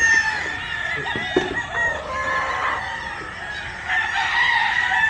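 Rooster crowing on a farm after a super typhoon, loud, close and repeated, with clucking fowl and other farm birds filling the background.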